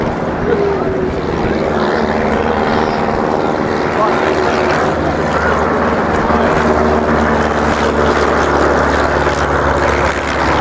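Steady droning propeller engine of a plane at the RAF Cosford air show, loud and continuous, with a voice talking over it.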